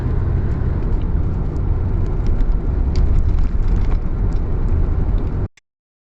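Car interior on a hot road trip: continuous engine whir and road rumble from inside the moving car, holding steady for several seconds, then cutting off abruptly.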